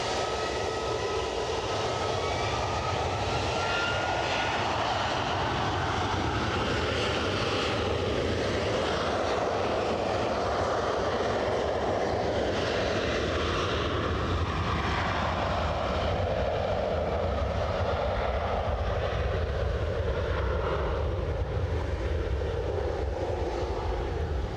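A jet airliner powers down the runway for takeoff at Edinburgh airport, a steady, broad engine roar with a shifting whine that holds for the whole stretch, heard from a distance outdoors.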